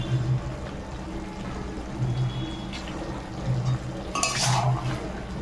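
Chicken curry with chopped tomato and ginger-green chilli paste is stirred in a pot, giving a continuous low scraping and soft sizzle, with a brief metallic clink toward the end.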